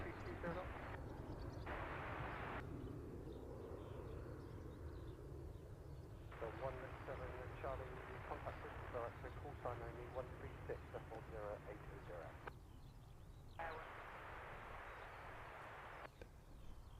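A Sun Express airliner bound for Antalya departs, its engines producing a loud, sustained roar that carries across the airport alongside a faint tonal whine.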